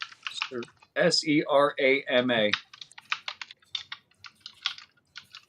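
Rapid keyboard typing clicks away steadily after a brief burst of talking, the keystrokes close and distinct in an otherwise quiet room.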